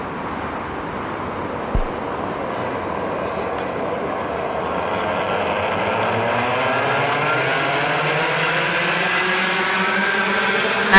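Thirteen Avanti class race cars pulling away at a race start after a single rolling lap: a dense, steady roar of engines rising in pitch as they accelerate, with one brief thump near the start.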